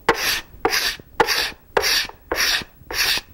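A cabinet scraper pulls across wood in six even, rasping strokes about half a second apart, each a close, bright scrape lifting shavings, with brief quiet gaps between passes.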